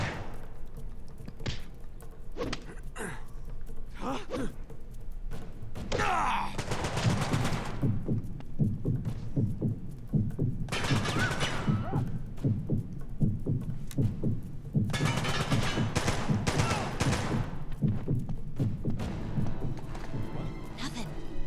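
Enemy heavies in Uncharted: Golden Abyss fire shotguns in repeated loud blasts, with thuds and crashes scattered through a busy firefight and character voices talking in between.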